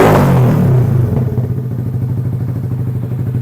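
A Yamaha Sniper 150 motorcycle converted into a cafe racer runs close and loud, its engine note starting with a strong rev and settling into a fast, throbbing, slightly rough idle.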